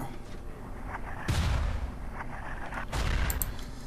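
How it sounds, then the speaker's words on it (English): Unupgraded incendiary mortar in the video game Forts firing, two deep booming launches about a second and a half apart, each with a sharp onset and rumbling tail over faint background noise. "First, the unupgraded incendiary mortar."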